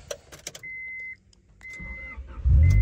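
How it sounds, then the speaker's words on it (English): Honda Prelude in a garage: a few clicks and a steady electronic beep, then the engine cranks and catches near the end with a loud low rumble. "Prelude, you are up. Please start."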